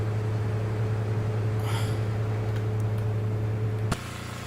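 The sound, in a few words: Saab 430 engines being shut down in X-Plane video game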